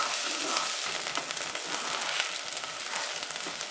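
Onions frying in oil for a spiced pumpkin coriander soup, a close, continuous bright sizzle with small crackles and no talk over it.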